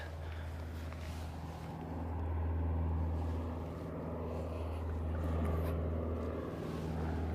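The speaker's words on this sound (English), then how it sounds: "bit of GA as well. It's your twin engine." A twin-engine general aviation aircraft at Christchurch Airport gives a steady, low droning engine rumble that swells and eases slightly, heard alone at moderate distance.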